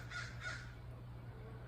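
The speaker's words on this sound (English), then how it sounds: "got an audience with crows today, it sounds like" Crows cawing outdoors: two short harsh caws in quick succession, moderately distant and fairly faint over a low steady background hum.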